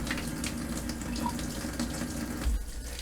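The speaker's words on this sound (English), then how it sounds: "Turn the water on and the light will light up right here." Hot water runs steadily from a tap supplied by a repaired tankless water heater, a continuous close hiss and splash with no talking.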